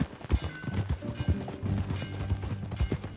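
Steady horse hoofbeats from Red Dead Redemption 2 clip-clop in a quick rhythm, close and clear, with faint mechanical clanks mixed in.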